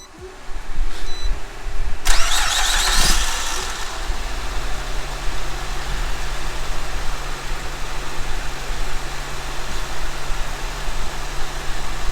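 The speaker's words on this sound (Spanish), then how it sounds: "voy a proceder a prender el carro" A car engine cranks and fires around the two-second mark, then settles into a steady low idle that continues close by for the rest of the clip.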